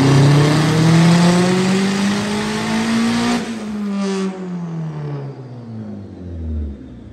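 A car fitted with a turbo whistle modification runs on a dyno, its engine revving loud and close with a rising pitch, then easing off as a high whistle fades and the motor settles to a lower drone.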